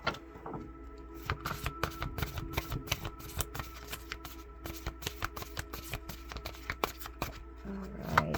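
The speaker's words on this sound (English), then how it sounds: "one more shuffle" A deck of cards is shuffled repeatedly by hand, a rapid run of crisp riffling flutters and sharp taps in close, steady bursts, with a little faint handling noise near the end.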